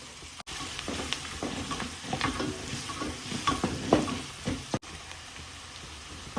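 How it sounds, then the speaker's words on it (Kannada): Onion and garlic fry in a pan for a fish curry, giving a soft continuous sizzle with scraping and clinking as the mix is stirred, fairly quiet and close. "ಹಾಕಿ ಚೆನ್ನಾಗಿ ಫ್ರೈ ಮಾಡ್ಕೊಳ್ಳಿ"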